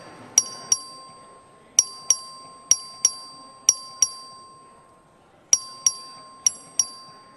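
A clerk rings the voting bell in the Texas House chamber: sharp, bright metallic dings in quick pairs and clusters, each with a short ringing decay, repeating loudly over a quiet room.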